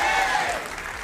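A studio audience at a televised debate breaks into a brief burst of steady applause welcoming a guest, dense clapping that thins slightly near the end.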